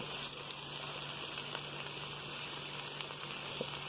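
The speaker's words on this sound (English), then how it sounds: "And I'm just frying it up." Cabbage fries in a pan, a steady, soft, continuous sizzle with faint crackles and occasional small pops, close by and alone.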